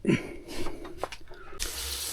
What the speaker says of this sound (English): I'm currently having to drain the hot water system because this gate here is broken.